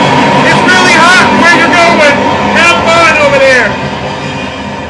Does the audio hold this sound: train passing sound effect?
yes